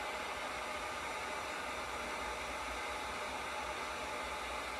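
A heat gun blows hot air onto PEX plumbing pipe, a steady, even hiss-and-whir that holds unchanged throughout at a low, distant level.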